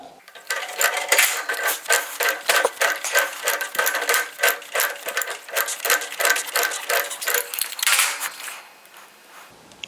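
A steel pipe fitting is tightened by hand with a wrench during steel and copper pipe assembly, giving a rapid run of metallic clicks and ratcheting scrapes that repeats steadily for several seconds before easing off near the end.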